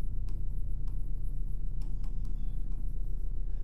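A teacher writing out a comparison of polynomial coefficients for a Class 10 maths exercise: steady scratchy marker or chalk strokes with a few sharp ticks, close and fairly quiet over a low room hum, no talking.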